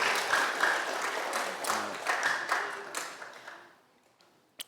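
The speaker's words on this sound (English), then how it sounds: "Y'all please give them a round of applause for being accessible." Audience applause for community officials at a Boynton Beach football community meeting, a moderate round of clapping that swells briefly and then tapers off to scattered claps and near silence, ending with a sharp tap.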